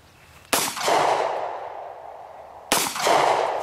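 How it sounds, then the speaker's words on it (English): Two loud gunshots on a range, spaced about two seconds apart, each a sharp close crack trailing into a long echoing decay, with no talking. "Fire two rounds."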